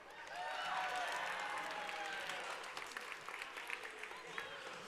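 Applause from a crowd at a robotics qualifier swells quickly, holds as a dense clatter of clapping, then thins into scattered claps toward the end.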